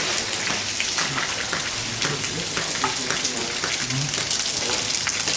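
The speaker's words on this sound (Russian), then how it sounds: "Что, дождик идет, да?" Rain falls steadily on a surface during a rainy May in Volgograd, a dense continuous patter of drops with faint voices underneath.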